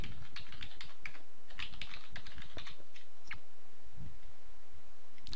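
Someone types a password on a computer keyboard in a series of quick, close key clicks that come in short bursts with brief pauses between them, with no talking.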